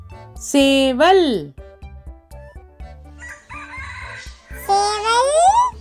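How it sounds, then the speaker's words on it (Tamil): Rooster crowing one long, loud, rising-and-falling cock-a-doodle-doo after a voice speaks over a low background hum. "சேவல்."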